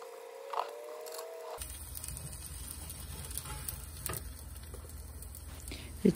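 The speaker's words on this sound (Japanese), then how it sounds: "中弱火ぐらいでしばらく焼いていったら綺麗な焼き色がつくのでひっくり返します" A sesame-coated patty sizzles in a pan over medium-low heat, a steady close frying hiss that starts abruptly and carries on with small pops and crackles, no voices over it.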